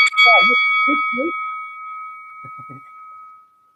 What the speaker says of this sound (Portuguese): Tocou o gongo aqui.